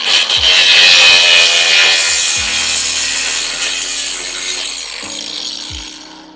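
A bolt being backed out of a car with a hand tool, giving loud close grinding and rasping scrapes with a few sharp clicks and knocks, steady for several seconds and then tapering off.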